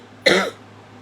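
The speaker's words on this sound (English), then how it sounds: "Made it all the way to the end before I started coughing." A single harsh cough, loud and close, bursting out for about a quarter second and then trailing off into quiet.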